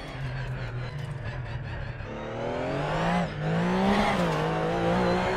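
Porsche 911 lapping the Nordschleife in a PC racing game, the simulated engine droning steadily then rising through revs with a brief shift dip, continuous and close, no voices.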